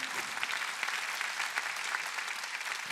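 A congregation at a worship service claps in affirmation, a fairly faint but steady spread of applause from many hands lasting a few seconds.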